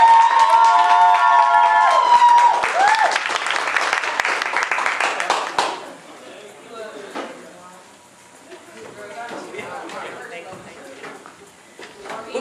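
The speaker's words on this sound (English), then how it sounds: "Give a round of applause for Double R." Applause and cheering from the audience at a live comedy show, loud at first with whistles and music, then falling away to scattered, fainter claps.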